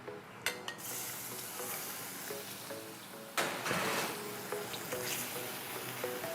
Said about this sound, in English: I would just take my shrimp and I will add it